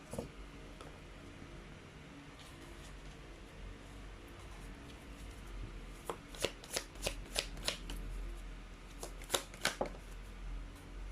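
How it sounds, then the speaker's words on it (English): Tarot cards are shuffled close up: quiet handling at first, then a run of sharp riffling bursts in quick succession, a pause, and a few more crisp shuffles near the end. "let's try to pull up another set of cards here"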